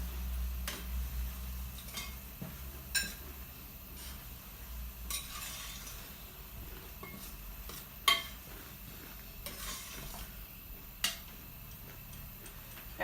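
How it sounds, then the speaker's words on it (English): A spoon stirs ayamase sauce in a pot, with faint intermittent scraping and ticking strokes and a few sharper knocks against the pot over a low quiet hum, unhurried and irregular. "I'm just gonna keep stirring until I'm sure it's cooked enough."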